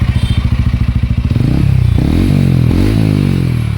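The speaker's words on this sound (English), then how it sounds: "Let's hear the exhaust note once. That's how the bike starts. This is at idling." A 2024 TVS Ronin 225 Special Edition motorcycle fires up with a quick chugging crank, then settles into a steady, close exhaust idle broken by a few short throttle blips.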